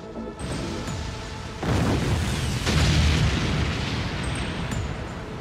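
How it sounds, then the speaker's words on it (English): Explosions in the Bakugan animated series, a dense rumbling roar of blasts that swells louder after the first second and rolls on continuously, close and heavy with crackling debris. "Do those explosions mean that the others succeeded?"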